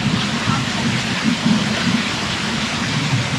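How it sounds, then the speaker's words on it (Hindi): Steady rain falling in Phuket, a dense continuous hiss with a low rumbling undertone, close and even throughout with no talk. "आज हो रही है हमारे फुकेत में बारिश।"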